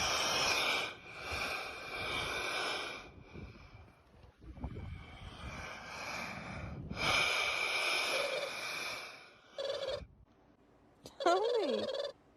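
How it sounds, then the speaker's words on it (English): Ocean waves surging through rocks, producing loud, rhythmic breath-like rushes and hisses that swell and fade in repeated cycles, with a brief squealing tone near the end. "The waves of the ocean are making these rocks sound like they're breathing."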